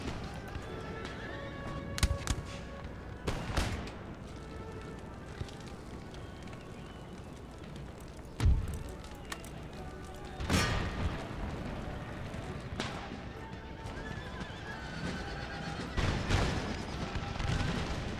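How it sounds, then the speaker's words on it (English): Artillery pieces fire canister shot on a Napoleonic-era battlefield in Empire: Total War, sounding as several sharp, booming blasts spaced seconds apart, with horses whinnying and hooves clattering in the background. "Artillery deploy and fire canister shot on the line infantry."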